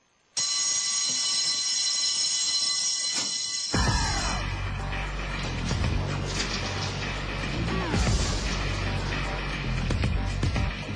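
A scramble alert buzzer blares continuously and loudly at Hyakuri Air Base, an Ibaraki fighter base with F-15 jets, during a drill, with hurried movement, thuds and clatter rising under the steady tone.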